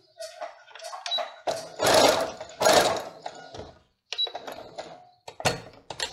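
A sewing machine stitches and backstitches bias binding on a fabric corner. It makes several short bursts of rapid whirring separated by pauses, close and fairly quiet.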